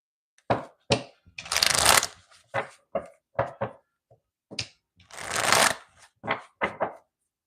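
Tarot cards being shuffled in close, crisp bursts, a quick riffling flutter repeated several times with short pauses between, alone and fairly quiet.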